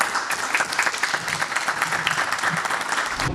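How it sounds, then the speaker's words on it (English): An audience at a startup pitch event applauds steadily as a founder is welcomed to the stage, a dense, continuous wash of clapping that carries through the whole moment and stops abruptly at the end. "With a round of applause."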